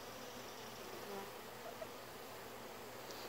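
Honey bees swarm around a hive box outdoors, a steady, faint, dense buzzing drone that hums on without pause, with no voices.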